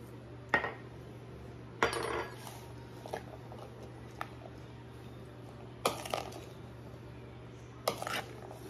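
Pea salad is mixed with salt and pepper in a bowl, heard as a few separate spoon scrapes and clinks spaced seconds apart over a quiet steady hum, with no talk.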